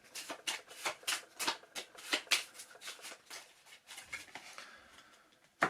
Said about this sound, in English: I'll grab them, shuffle them.